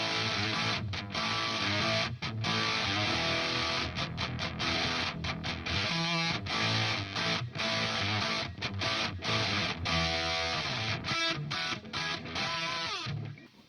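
Loud, heavily distorted electric guitar chugging through chords and riffs, washed in reverb from a Walrus Audio ACS1 MK II, with no voices.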